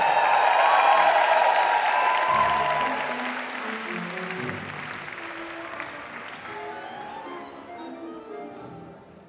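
Audience at a swing dance performance ball in Shoreditch, loud dense applause with cheering that gradually fades into scattered clapping and murmuring crowd over about nine seconds.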